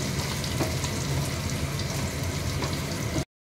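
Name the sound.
pumpkin frying in a pan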